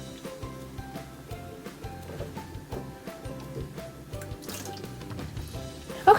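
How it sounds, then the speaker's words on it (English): Water is drawn out of a Cartesian diver floater bottle, a faint run of soft drips, trickles and small liquid squishes, ending with a brief louder splash. "now we're going to remove a bit of water from the floater"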